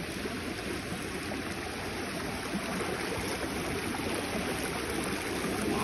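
Water flowing steadily along a creek, a continuous rushing, gurgling wash that stays fairly close and even throughout, with no voices over it.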